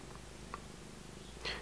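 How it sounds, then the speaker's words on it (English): A pet cat purrs softly and steadily at a workbench during a soldering job, a low continuous rumble that stays faint throughout, with a brief small rustle near the end. "If your cat comes along while you are working,"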